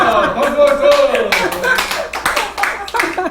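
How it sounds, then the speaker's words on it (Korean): Congregation clapping at a Korean church gathering, sharp irregular claps rising in bursts over a few seconds, mixed with speech and vocal exclamations. "박수!"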